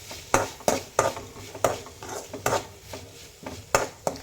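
Tomato and onion frying in a pan, a spoon stirring and scraping against the metal in regular strokes roughly every half second, with a soft sizzle underneath; close and fairly loud, no talking.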